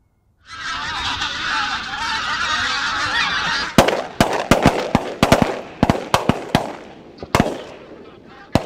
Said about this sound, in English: this time we're on a morning goose flight, and David really puts us under the birds